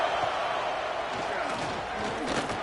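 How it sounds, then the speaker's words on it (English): At a college football game between Virginia Tech and Auburn, stadium crowd noise rolls on as a diffuse roar, with a commentator talking over it. "Listen to the crowd energy here in the early going."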